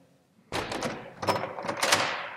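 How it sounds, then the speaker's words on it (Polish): A WE.LOCK smart lock on a door as the door is closed and opened, a run of close, loud mechanical clunks and knocks with brief scraping, no talk. "drzwi się zamykają i otwierają"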